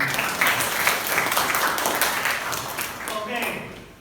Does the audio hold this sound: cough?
no